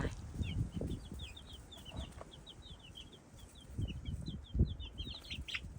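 A flock of chickens with young chicks being introduced, soft continuous cheeping and clucking throughout, with low rustling and scuffing in the foreground and occasional louder bursts, no talking.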